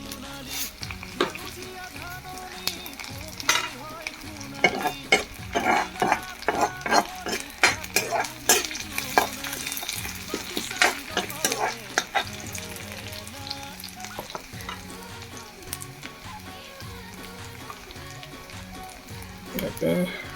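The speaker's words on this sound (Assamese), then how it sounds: "এবাৰ মই বাকীখিনি পুলু ভালদৰে ভাজি ল'ম" Silkworms fry in a hot kadai with a crackling sizzle, broken by repeated scrapes and clinks of a spatula stirring against the metal. The sounds are close and irregular, and the cook talks over parts of it.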